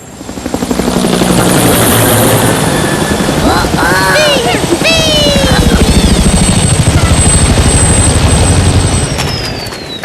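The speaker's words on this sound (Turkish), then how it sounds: "Helikopter buraya geliyor." A helicopter approaching in a cartoon roars loud and close, rotor thumping steadily as it nears, with voices shouting faintly beneath the din.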